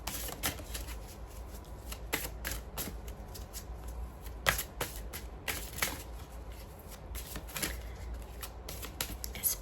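A deck of oracle cards is shuffled by hand in a quiet room, with repeated soft riffling and flicking bursts at an uneven rhythm and no voices.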